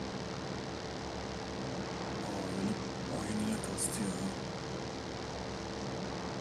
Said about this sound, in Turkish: Kimin uçağı bu?